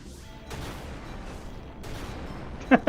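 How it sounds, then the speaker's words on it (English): Explosions blowing up demons in the online game Final Fantasy XI. Two rumbling booms roll out about a second apart, followed by a couple of sharp clicks at the end. "Blow up all the demons! Kaboom!"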